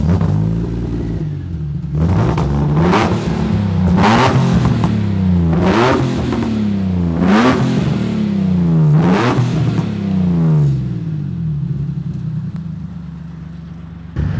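A Datsun 260Z race car engine revs hard and loud in repeated rising bursts, its deep roar climbing and falling about six times before settling back toward idle.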